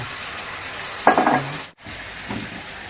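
Beans are stir-fried in a pan with a splash of water, making a brief burst of sizzling and stirring before settling into a quieter simmer.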